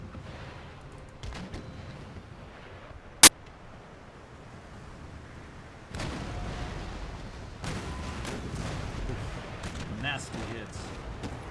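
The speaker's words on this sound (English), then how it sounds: "We're going to try our next round for chain shot to see if we can slow him down." Chain-shot cannon fire in Empire: Total War starts with one sharp, loud boom, then a denser stretch of rumbling gunfire and battle noise follows.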